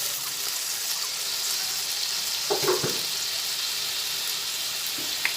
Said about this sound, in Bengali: একদম অল্প করে একটু জল দিয়ে দিলাম